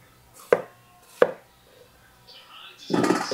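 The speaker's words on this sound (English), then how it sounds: "cut it up in chunks like this" Knife chopping squash into chunks on a board in a home kitchen, two sharp separate chops followed by a louder, rougher scraping clatter, close and clear with no talk.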